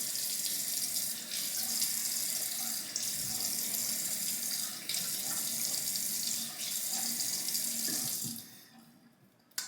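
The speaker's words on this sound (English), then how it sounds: "now we'll rinse it off with some cold water." Cold water runs from a tap into a sink to rinse off a shaving lather, a steady close hiss that cuts off near the end, with no talking.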